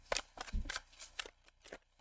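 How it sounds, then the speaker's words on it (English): A tarot card deck shuffled by hand in a few quick riffling bursts, close and fairly quiet, with short soft slaps between them and no talking. "2 shuffles. This deck is ready."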